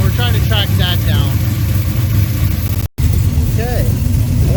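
A 1973 Corvette engine idles steadily around 680 to 700 rpm, a smooth low rumble close by, with a voice speaking briefly over it.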